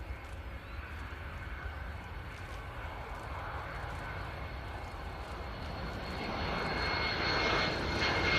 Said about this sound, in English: DHL-757. They're entering at about 150 knots and 100 feet